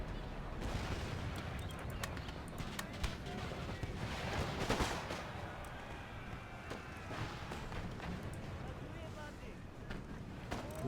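A line of musketeers in Empire: Total War fires a ragged volley, with many sharp overlapping cracks scattered through a steady din of battle. Someone talks over the shots.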